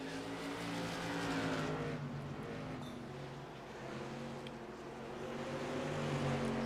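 Modified race cars lap a short track, engines roaring and rising and falling in pitch as the pack sweeps past, a dense continuous racing din heard from a distance.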